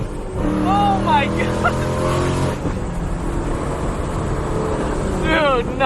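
Supercharged 700-horsepower Ford Mustang GT accelerating hard in second gear, with a loud, sustained engine roar rising in pitch and people's excited voices over it inside the car.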